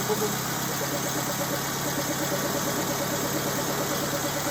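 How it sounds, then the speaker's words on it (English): Electric fuel pump on a 1929 Ford Model A roadster pickup, running as a steady rapid ticking buzz under a constant mechanical hum, close and even throughout. "You hear that fuel pump?"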